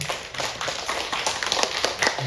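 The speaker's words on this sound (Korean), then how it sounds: "우리 한번 박수로 환영하겠습니다. 한번 박수할까요?" A church congregation at a Sunday service claps in welcome, a steady patter of many hands close by that carries on for the whole stretch with no one speaking over it.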